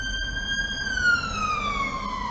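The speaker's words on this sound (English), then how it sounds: "another ambulance, something probably happened" An ambulance siren wails outside, a loud steady tone that slowly drops in pitch as the vehicle passes, over a low hum of traffic.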